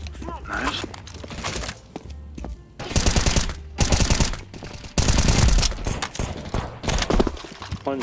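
Gunfire in the video game Counter-Strike: bursts of rapid automatic shots and single sharp cracks in loud clusters, mixed with footsteps and game effects, with players talking intermittently.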